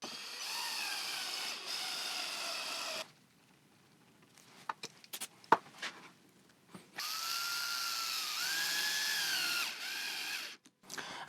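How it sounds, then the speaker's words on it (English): A power drill pre-drills screw holes in wood for a DIY garden obelisk trellis: two long, steady whirring bursts, the second rising slightly in pitch, separated by a pause of small clicks and knocks nearby. "it's basically a lot easier to pre-drill the hole and attach the screw"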